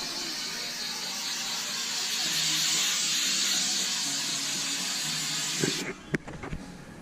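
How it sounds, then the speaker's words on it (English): Degreaser sprays from a can in a steady, fairly quiet hiss that lasts close to six seconds before cutting off, followed by a few faint clicks and handling knocks. "Little degreaser."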